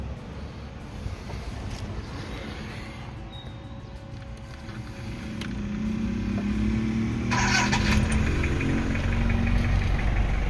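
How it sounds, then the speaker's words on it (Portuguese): A 1992 Toyota SW4 with a 2.8 3L diesel engine is heard near, under an open hood. A low idle hum swells midway as the engine starts and revs, then settles into a steady, slightly knocking idle. "Vamos agora ligar o motor aqui para você ver."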